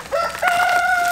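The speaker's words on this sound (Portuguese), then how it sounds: "Ô, Nando, vamos levar as coisinhas lá pras galinhas?" Backyard chickens, with a rooster crowing in a rising, drawn-out call that holds steady for about a second, clear and fairly close, with no other sounds around it.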